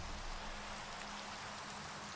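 Rain falling in Minecraft survival, a quiet, even patter of drops that hisses steadily throughout the short stretch with no voices.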